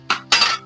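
A metal lid set onto a cooking pot of spiced potato curry in a home kitchen, giving two quick clinks, a short tap then a longer ringing clatter, close and fairly loud with no talk.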